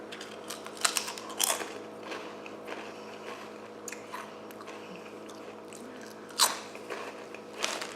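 Crisp crunching bites on spicy jalapeno potato chips, a few loud sharp crunches near the start and another burst later, with softer chewing in between, close to the mic and with no talking.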